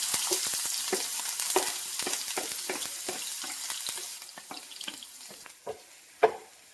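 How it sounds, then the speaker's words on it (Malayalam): Chopped onions sizzling in hot coconut oil, stirred with a spoon that scrapes and taps the pan in a quick, irregular rhythm over a steady close crackle. "ഉള്ളി ചെറുതായിട്ടൊന്ന് വാടി വരുന്നവരെ ഇളക്കി കൊടുക്കാം"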